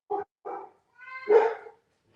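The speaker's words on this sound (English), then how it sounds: "Sorry, my dogs are barking." A dog barks several times close by, two short yaps followed by a longer, louder bark.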